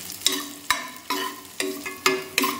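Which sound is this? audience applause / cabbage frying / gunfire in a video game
cabbage frying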